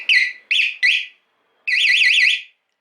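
Three short electronic beeps in quick succession from a Valentine radar detector powering up on a Yamaha MT-09 motorcycle, then a longer warbling tone that rises and falls, loud and close, with silence between.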